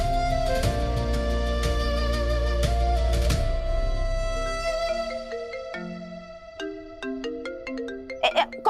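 A melodic phone ringtone plays loudly in repeated tones in a classroom, then its notes thin out and fade into scattered chimes.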